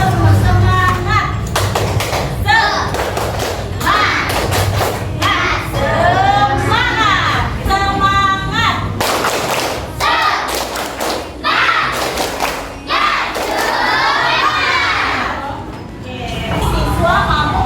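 Schoolchildren in a classroom doing the tepuk semangat clapping chant: rhythmic bursts of hand claps and stamping thuds alternating with shouted group chanting, loud and close throughout.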